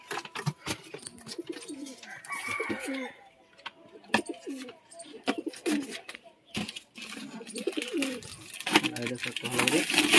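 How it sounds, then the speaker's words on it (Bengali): Several newly bought pigeons coo in soft, rolling bursts close by. Rustling, knocks and handling clatter break in and out as the birds are unboxed, and some talk is faintly mixed in. "আবার কবুতরগুলো আনবক্সিং করে দেখি কবুতরগুলো কিরকম এসেছে"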